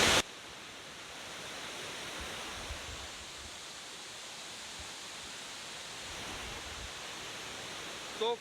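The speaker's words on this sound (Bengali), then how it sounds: "ফাটাফাটি ওয়াটারফলস একদম দুধ সাদা জল ওপর থেকে ঝরে পড়ছে নিচের দিকে" Krangshuri waterfall in Meghalaya pours steadily from height, a dense, even roar of falling water that holds unbroken throughout, with no voices over it.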